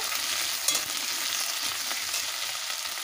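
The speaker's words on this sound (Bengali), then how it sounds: "আলু গাজরগুলোকে আমি ভালোভাবে ভেজে নেব" Potatoes and carrots fry in a pan with a steady, loud sizzle, alone and unbroken throughout, with faint stirring scrapes on top.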